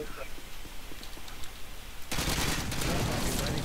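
Dense automatic gunfire in Modern Warfare 2 bursts in loudly partway through, following quieter rattling and clicking, with a player's voice talking beforehand.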